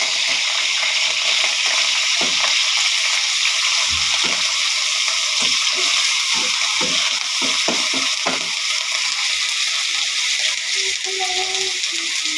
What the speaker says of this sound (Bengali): এখন আমি এই গরম তেলের ভিতরে এই বাটা মশলাটা দিয়ে দিলাম।